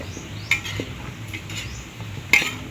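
Kaldereta being sautéed and stirred in a pan for a fiesta meal, with two sharp metal utensil clinks against the pan over a low, steady background of cooking noise.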